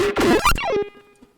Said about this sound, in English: You can hear the buffer override going crazy.